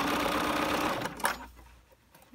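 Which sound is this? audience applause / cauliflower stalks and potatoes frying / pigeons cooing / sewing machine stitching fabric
sewing machine stitching fabric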